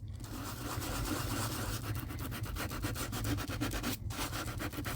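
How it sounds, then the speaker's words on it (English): A sanding block rubs briskly back and forth over embossed metal foil for card-making, a close, quiet, rhythmic scratchy scrubbing with a short pause near the end. "So we'll just go ahead and just finish buffing all of this."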